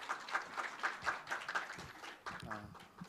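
Faint, distant audience applause at a Korean medical forum, with steady scattered clapping that keeps a loose rhythm for a few seconds.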